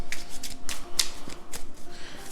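A deck of tarot cards is shuffled up close for a reading. Crisp riffles and flicking card snaps come in uneven bursts, loud and near, with no talking.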